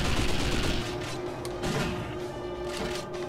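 Rapid gunfire in the video game 007 Nightfire, dense overlapping shots and bursts sounding loud and close, with a short crashing impact partway through and no talk.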